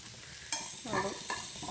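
Onion, garlic and ginger stir-fried in a pan, a soft sizzle broken by a few scraping stirs of a spoon, fairly quiet and close.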